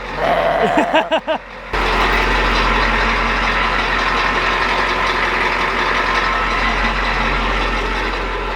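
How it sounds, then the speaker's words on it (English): A diesel truck fitted with a NASCAR-style exhaust idles loudly and smoothly, a steady deep rumble that holds for most of the clip after a short, different sound at the start. "You notice how smooth the motor sounds compared to everything else?"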